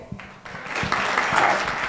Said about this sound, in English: So clap if we're okay.